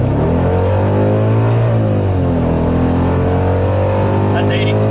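A car launches without a burnout on cold asphalt, its engine rising in pitch as it accelerates hard, loud and close for the whole stretch, with a voice talking over it.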